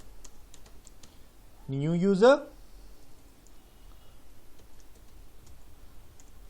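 Faint, scattered clicks of typing on a computer keyboard tick along quietly, interrupted by one brief rising vocal sound.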